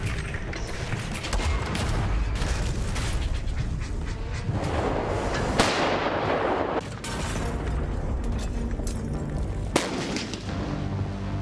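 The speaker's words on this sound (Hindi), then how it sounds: "इस तोप की फायरिंग की आवाज सरहद पार पाकिस्तान तक जरूर सुनाई दी होगी" K9 Vajra howitzer artillery firing during a desert drill near Bikaner, loud heavy booms and blasts with rumbling dust-laden noise, continuous and close throughout.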